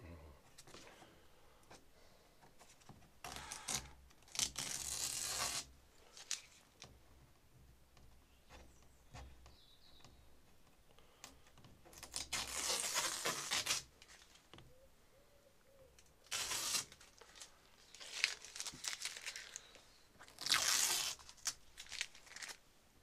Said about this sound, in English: So let's take the masking tape off.